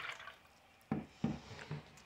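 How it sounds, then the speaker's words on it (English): Juice pours into a glass, faint and close, with a few soft splashing glugs spaced apart against a quiet room. "And to pour the juice one more time."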